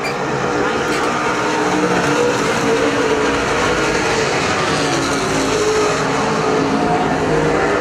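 Super stock race cars roar around Perris Auto Speedway in a steady, loud, continuous engine drone, with a track announcer talking over the noise throughout.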